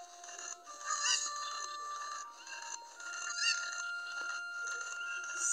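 Chickens in Kakariko Village in the game Zelda Ocarina of Time cluck and squawk in short repeated bursts. The calls sound fairly soft and clear, over a thin electronic hum.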